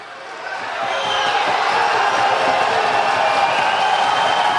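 A crowd cheers and roars steadily, loud and close, as a strongman strains at a 900-pound Hummer tire deadlift during the fifth event of the Shaw Classic, the noise building after the first second and holding without letup.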